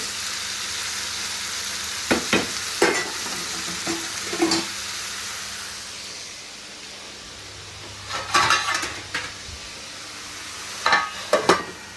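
Ivy gourd fries in a pan with a steady, moderate hiss, punctuated by a few short bursts of louder crackling and scraping as the pieces are stirred or shifted.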